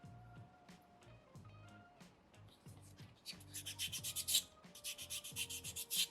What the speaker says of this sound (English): And the final sanding stage is a 600 grit.